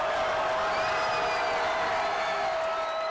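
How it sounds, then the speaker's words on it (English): A high school basketball crowd at a sectional game between Metamora and Kankakee, dense, loud and continuous cheering and roaring that fills the gym with no break. "And the Metamora crowd goes wild here."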